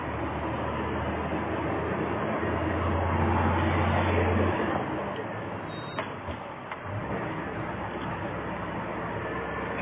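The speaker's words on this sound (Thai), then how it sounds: "เสียงดังรถเลนขวาครับ" Steady roar of road traffic close by, a dense continuous rumble of passing vehicles with a heavier swell in the first half, no voices.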